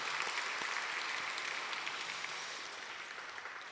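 Steady, sustained applause fills a large church gathering, a dense wash of many hands clapping at an even level throughout, slightly distant and reverberant.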